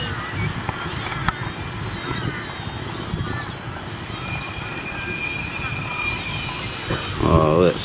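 A model airplane with a spinning propeller flies at a club field, its engine a steady drone throughout, with wind buffeting and people talking over it, and a louder burst near the end.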